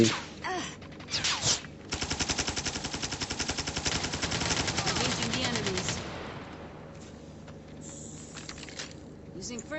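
SMG fire in a video game rattles in a long rapid burst of evenly spaced shots after a few single pops, then trails off into quieter game noise, with players talking.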